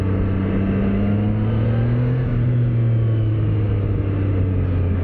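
A 2025 Triumph Trident 660 motorcycle engine rumbling and revving loudly up close, its pitch rising and falling smoothly through a continuous, steady drone.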